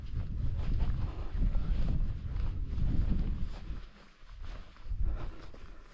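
Wind buffets the microphone on an overcast mountain walk at Creag Meagaidh, a loud continuous low rumble that swells and dips in gusts, easing briefly before rising again.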